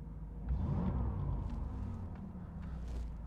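A 1989 Pontiac Firebird Formula coupe idles just after starting, a low steady engine rumble heard faintly from nearby with a slight swell early on, no voices over it.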